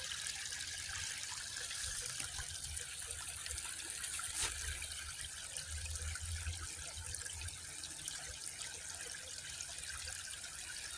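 Two waterfalls pour in the distance, a faint, steady rushing hiss that carries on without a break under calm outdoor air.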